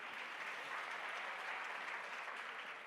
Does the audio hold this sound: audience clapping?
yes